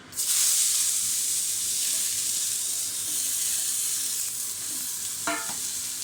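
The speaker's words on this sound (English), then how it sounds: "we are going to stir fry the ingredient to actually bring out the flavor" Carrot and mushroom stir-fried in a pan sizzle with a bright, steady hiss that starts suddenly and holds throughout, close up, with one brief scrape of the utensil near the end and no talking.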